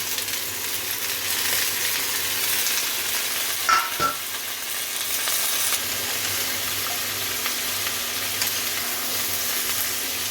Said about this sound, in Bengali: সবজিটা একটু নাড়াচাড়া করে আমি এবারে লাউ শাকগুলো দিয়ে দিলাম